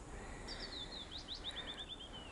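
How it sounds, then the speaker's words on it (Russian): Chaffinch song from woodland in a ravine on a May evening: a bright descending trill of sweet notes ending in a flourish, moderately near over a steady background hum. "А тут вот зяблик перешибает."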